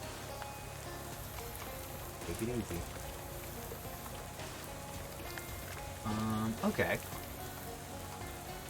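Steady rain falls throughout a scene in the Shadows Over Loathing video game, a continuous hiss under brief spoken exchanges, with short game sound effects.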